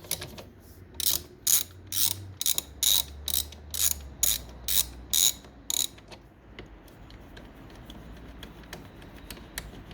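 A hand ratchet clicks in a steady run of about ten loud, evenly spaced bursts while backing out a screw on a BMW E90 318d/320d, then falls quiet except for faint ticks.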